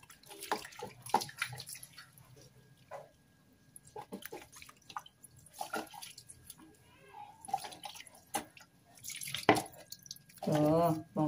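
A small kitten is bathed, with water splashing and dripping in short bursts under a person's soft, intermittent talk, rising to a louder rush of water near the end.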